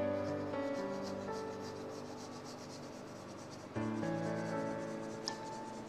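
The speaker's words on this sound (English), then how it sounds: "And we're still sketching." Pencil on paper sketching a realistic eye, a close, steady rubbing scratch of repeated light strokes over a droning background hum.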